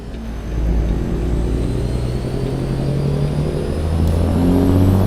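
Truck engine brake on a default sound in American Truck Simulator, a steady low rumble that resembles an engine revving in neutral, holding loud and continuous after a quiet first half second.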